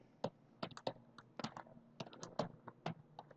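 Rapid, uneven keystrokes on a computer keyboard, close and clear, clicking in short bursts with brief pauses between words.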